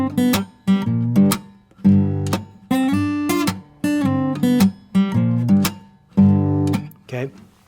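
Guitar playing a riff, a rhythmic repeating blues figure in short, punchy phrases with strong bass notes and bright plucked strings, loud and close with no talk.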